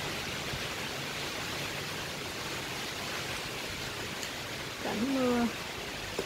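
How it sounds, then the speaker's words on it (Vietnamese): Steady broadband hiss of a sudden rain shower falling on a sunny afternoon, an even wash of sound throughout, with a short voice-like call or animal sound near the end. "Trời đang nắng bỗng đổ mưa nè"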